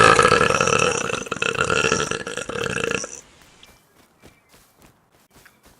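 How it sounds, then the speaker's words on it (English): A loud, drawn-out human burp from a player in voice chat during a game of Rust lasts about three seconds and cuts off abruptly, followed by faint, soft footsteps from the game. "Isn't burping noises hilarious to kids nowadays?"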